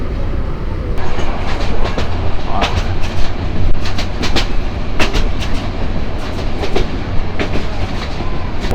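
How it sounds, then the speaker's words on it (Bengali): Tista Express passenger train running at speed on rails, a steady loud rumble of wheels with repeated clickety-clack rail joint hits throughout, with brief speech in the carriage. "আমাদের ট্রেন বেশ স্পিড দিছে"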